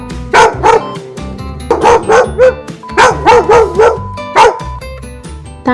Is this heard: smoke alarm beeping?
no